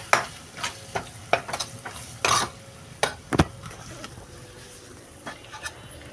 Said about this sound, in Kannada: ಇದನ್ನು ಚೊಲತ್ನಾಗ ಮಿಕ್ಸ್ ಮಾಡ್ಕೊಳ್ಳೋಣ ಈ ಥರ